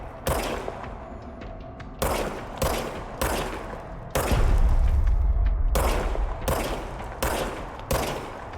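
Gunfire from a weapon in a video game: about eight loud, close shots fire one after another in an uneven rhythm, each with a short ringing tail and a heavier booming stretch in the middle.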